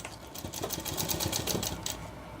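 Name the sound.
sewing machine stitching a shirt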